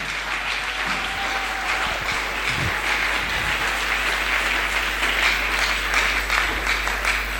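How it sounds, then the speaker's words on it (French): A church congregation breaks into sustained applause acclaiming Jesus, a dense, steady wash of many hands clapping that continues evenly from start to finish. "Acclame Jésus, s'il te plaît."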